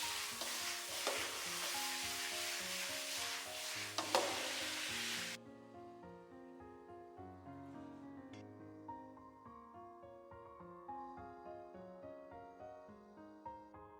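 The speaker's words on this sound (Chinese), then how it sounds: "最後淋上一點明油，提亮增香，簡單翻炒幾下，直接關火裝盤出鍋。" Chicken slices stir-fried in a wok sizzle loudly and steadily for about five seconds after a drizzle of oil, then the frying cuts off and gentle instrumental music carries on alone.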